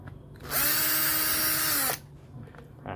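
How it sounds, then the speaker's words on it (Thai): A power drill whirs loudly and close in one sustained burst of about a second and a half, cutting into the back of the main board of an LG Inverter front-load washing machine, model WD-14030RDS. "เดี๋ยวเตรียมสว่านนะครับผ่าเมนบอร์ดนะครับด้านหลัง"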